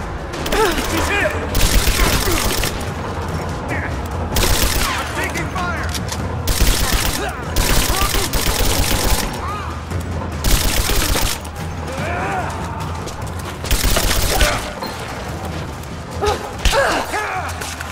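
Bursts of automatic gunfire in the video game Rise of the Tomb Raider, loud, close rapid volleys repeating every few seconds over a constant rumbling backdrop.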